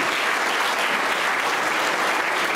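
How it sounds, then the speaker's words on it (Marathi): Loud, sustained applause from a crowd at the prize ceremony of the 59th Senior Maharashtra State Carrom Championship, a dense steady clatter of many hands with no break. "आता जोरदार टाळ्या देण्यासाठी होतील"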